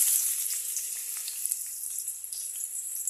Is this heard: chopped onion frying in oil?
yes